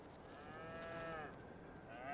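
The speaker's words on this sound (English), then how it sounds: "first we will look at cows over here" Cattle in the farming game Farming Simulator 22 give a long, drawn-out moo that swells and falls, then a second call starts, all over a steady bed of game ambience.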